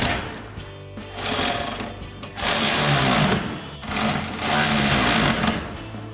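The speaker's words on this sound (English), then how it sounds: "we're going to grab our 14mm socket on our ratchet to tighten down our top 3 main bracket" Ratchet with a 14mm socket tightening the main bracket bolts of running boards on a 2010-2023 RAM 2500 truck, heard as bursts of rapid mechanical clicking that rise and fall in several close, fairly loud runs.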